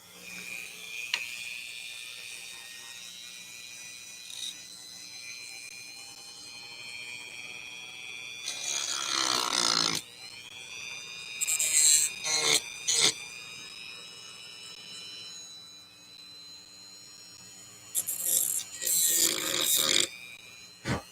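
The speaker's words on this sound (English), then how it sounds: "So using a Dremel and being very careful." A Dremel rotary tool whines at high pitch while cutting into a circuit board, with several louder grinding bursts of a few seconds each between quieter stretches of spinning.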